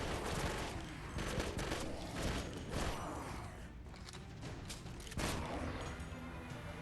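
Continuous gunfire in the zombie shooter game Left to Survive, rapid automatic bursts crackling without pause, with heavier impact cracks punctuating the stream.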